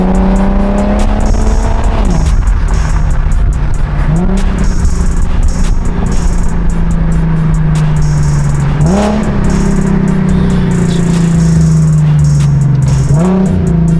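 Close and loud, a Corvette C8 sports car's engine pulls hard through several gears, its pitch rising steadily and then dipping at each quick shift, with no one talking.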